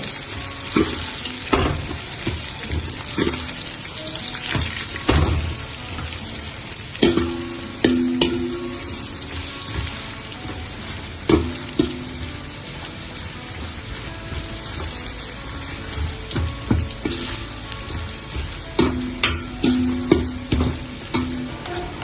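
Four large onions fry in oil toward golden for chicken dum biryani, a continuous close sizzle broken by frequent scraping stirs and clinks of a spoon against the pan.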